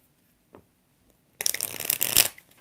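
Tarot cards are shuffled close up in a quick riffling burst of about a second, preceded by a faint soft tap, with no talking.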